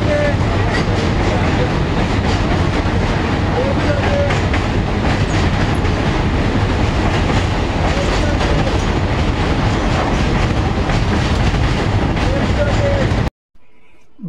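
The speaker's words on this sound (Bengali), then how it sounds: "কোলাঘাট রেলওয়ে স্টেশন থেকে রূপনারায়ণ নদী পার হতে মিনিমাম 5 মিনিট ট্রেনে সময় লাগে" A train crossing the Rupnarayan river bridge near Kolaghat station gives a loud, steady rumble and rattle of wheels on track that continues without a break, then cuts off abruptly near the end.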